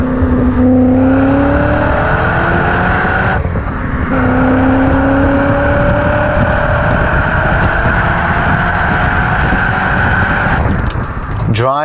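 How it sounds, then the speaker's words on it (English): Manual Volkswagen Passat W8 engine while driving, loud and close from inside the cabin, revs climbing steadily in a short first gear, a brief break for a shift, then another long rising pull. "Driving the Manuel W8 Passat."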